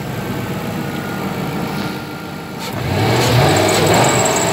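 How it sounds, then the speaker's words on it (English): A Lincoln LS car engine idles steadily close by, then revs up and holds at a higher pitch toward the end. "and you could also rev it up here."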